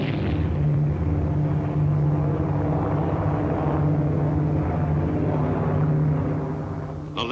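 Four-engined 7th Air Force Liberator bombers fly in a steady, loud, droning roar, with a constant low engine hum and broad rushing noise throughout.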